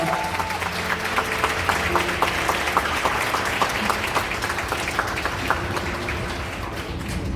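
A wedding hall full of guests claps continuously, a dense patter of hands with a few sharper claps standing out near the front.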